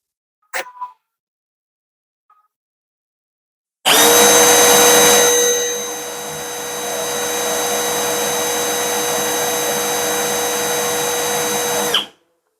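A Milwaukee M12 FPD2 cordless drill spins up abruptly at speed 2 after a short click, whines loud and steady at high pitch for about eight seconds, dips slightly in level, then cuts off sharply.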